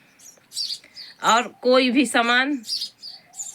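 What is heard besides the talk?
birds chirping near village house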